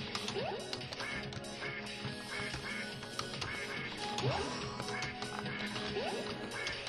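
Repeated quacking from a duck character in the platformer I Wanna Get Cultured, short nasal calls recurring every few seconds over busy game music and effects.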